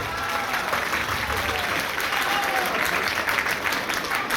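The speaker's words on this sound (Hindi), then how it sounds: "आप सबकी तालियों की बरसात चाहिए" A crowd at a Sant Ravidas Jayanti gathering in Bhilwara claps steadily, producing a dense, even wash of applause from many hands that continues unbroken throughout.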